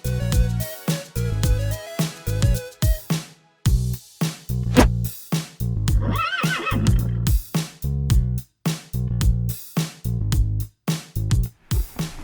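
Repeated loud, close horse neighs and whinnies at a farm, several calls in a row with short gaps between them and no talking.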